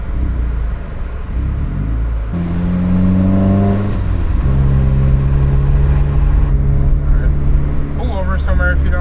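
A car fitted with a Tomei Expreme Ti exhaust and a catted Grimmspeed J pipe driving, engine drone rising and shifting through revs with a deep rumbling tone, heard from inside the cabin.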